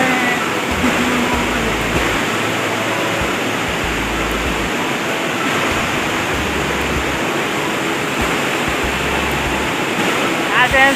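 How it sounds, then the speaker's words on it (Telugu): Water at Gundala Waterfalls rushing and roaring steadily, a dense constant broadband wash heard close by with wind buffeting and faint low rumbles underneath. "సో ఇంకొంచెం కింది దిగితే మనకు వాటర్ ఫాల్ అనేది మనకు కనబడుతుంది."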